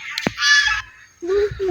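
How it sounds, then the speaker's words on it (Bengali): Several geese on a big river on a cold day let out loud, nasal honks in quick bursts, close by, with a brief pause between calls. "অনেক রাজহাঁস"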